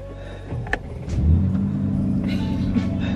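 Aston Martin engine revving up into a deep, rumbling growl, rising loudly after a brief blip and holding steady as the car pulls away, close by with no talk.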